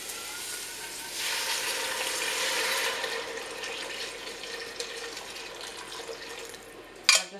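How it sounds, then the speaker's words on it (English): Hot water pours into a pot of onions, split peas and bouillon for soup, a soft steady splashing that swells for a couple of seconds and then settles into a quieter trickle, ending with a sharp clunk. "And then add some water."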